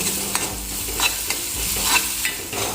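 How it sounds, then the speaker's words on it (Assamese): Chopped onions and green chilies frying in a pan with garlic, a close continuous sizzle under steady stirring strokes with soft scraping taps, no speech. "গ্ৰীণ চিলি চপ কৰি থোৱা পিঁয়াজখিনি দি ভালকৈ একদম গল্ডেন ব্ৰাউন হোৱালৈকে ভাজি ল'ব লাগিব"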